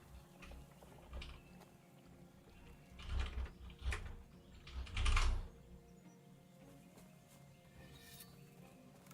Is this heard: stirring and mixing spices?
no